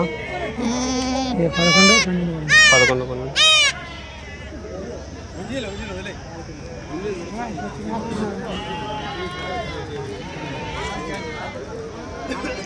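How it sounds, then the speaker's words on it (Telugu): Goats bleating at the weekly Tuesday goat market in Kadiri, several loud wavering bleats early on, then fainter calls from many animals amid a busy crowd where people talk. "ఇది మేకలు సంత కదిరి ప్రతి మంగళవారం."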